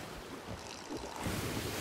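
Water sloshes in a mop bucket as a soft, continuous swishing wash that swells slightly toward the end, quiet and with no one speaking.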